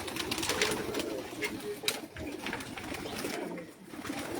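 Racing pigeons cooing on a rooftop pigeon loft, with soft repeated coos and fluttery chatter over steady outdoor background noise.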